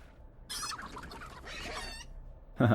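Chicken clucking from the Age of Wonders 3 strategy game, a few short bursts of fowl-like calls over a low background, ending with a louder, sharper squawk.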